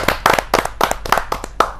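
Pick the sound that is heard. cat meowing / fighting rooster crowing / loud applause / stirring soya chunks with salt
loud applause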